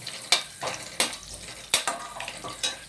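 Whole spices frying in hot oil in a pan, a soft crackling sizzle broken by a few sharp stirring clinks and scrapes at a steady pace, close up with no talk.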